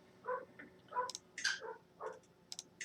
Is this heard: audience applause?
no